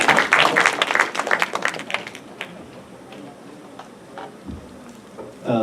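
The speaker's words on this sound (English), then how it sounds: "A round of applause, please." Brief burst of audience applause at a Japanese-Philippine conference welcoming a university professor, strong at first and quickly fading to scattered claps and quiet.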